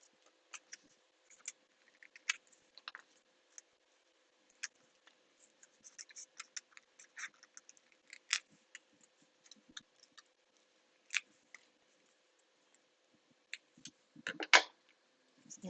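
Wafer paper petals are snipped with scissors, leaving scattered small crisp cuts and light paper rustles, quiet and close, with long pauses between.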